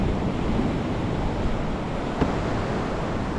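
Ocean waves wash steadily onto the main surf beach at Uluwatu in Bali, a continuous broad rushing roar with some wind noise and no voices.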